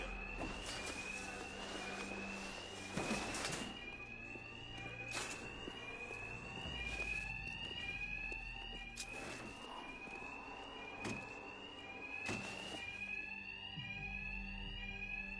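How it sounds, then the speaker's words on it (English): An alarm rings in Batman: Arkham Knight, a repeating electronic warbling tone pulsing steadily, with sharp impacts and game effects scattered through and no talk. "My attacks will be covered by the noise of the alarm."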